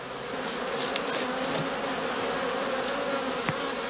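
Honeybees at a traditional skep hive in Germany, a dense steady buzz of many insects close by, constant and loud with a few brief individual passes.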